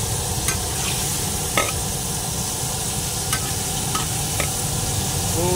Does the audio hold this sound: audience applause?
no